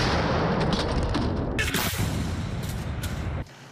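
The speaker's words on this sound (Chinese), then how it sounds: "俄罗斯士兵持续在森林地带朝乌克兰猛轰" Russian soldiers fire artillery in a forest toward Ukraine, with loud heavy booms and a rumbling blast that cuts off abruptly.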